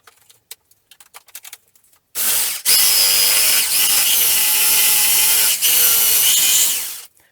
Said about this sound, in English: Then I went ahead and cut them out on the jigsaw.